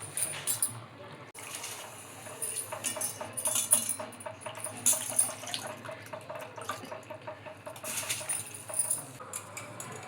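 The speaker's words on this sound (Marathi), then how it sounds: "पाणी उकळलंय, त्यात आपण तांदूळ टाकून घेऊ." Rice goes into boiling water for dum biryani, making bubbling, trickling and dripping water sounds with light clinks, moderately quiet and continuous, with no one talking.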